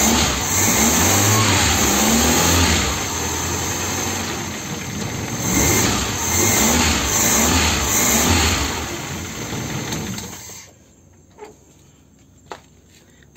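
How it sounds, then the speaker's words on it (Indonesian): A repaired car engine, fixed after radiator coolant mixed with oil, runs smoothly and loud at a steady idle with a few light revs for about ten seconds, then cuts off, leaving faint clicks. "Mesin halus, macam mesin sedan."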